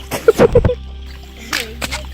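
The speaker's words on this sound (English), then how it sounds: "I've got to have my hands in the water" Hands splashing and sloshing in water while panning for gold, a few quick close splashes followed by a pause and another short burst.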